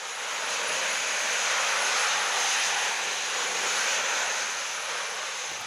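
Engines of a personal flying machine idle at their lowest setting, giving a steady loud whining roar with a thin high tone on top that holds evenly throughout, with no voices.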